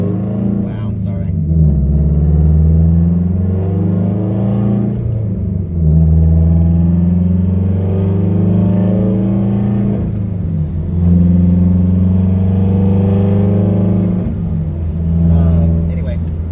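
A 2015+ Subaru WRX with the FA20DIT engine and a Tomei unequal length header, revving up and settling in several repeated cycles, a loud, close, rumbling engine note that fills the whole stretch.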